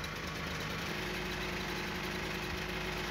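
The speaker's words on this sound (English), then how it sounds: "these engines don't like being operated without a load" An East German military generator engine idles with no load, a steady, continuous mechanical drone with a faint vibrating hum and no voices.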